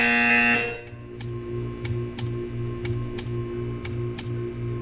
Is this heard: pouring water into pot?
no